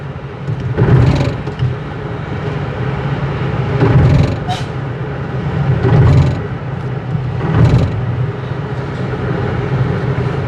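A car coasts in neutral with the engine free-running, a steady low road and tyre rumble swelling gently every couple of seconds, close and continuous with no gear changes.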